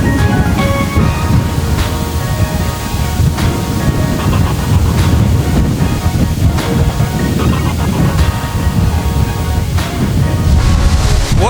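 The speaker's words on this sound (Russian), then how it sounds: "Ух ты, смотрите, какой ветер." Strong wind gusting steadily and loudly outdoors, roaring close to the microphone throughout with no talk, while an Opel Omega B is being worked on.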